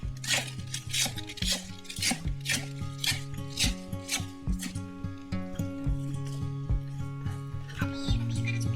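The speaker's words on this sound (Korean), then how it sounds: "로메인은 썰어줄 거예요." A knife chops romaine lettuce on a board for a bibimbap, making a run of crisp, evenly spaced cuts close by, with background music playing under it.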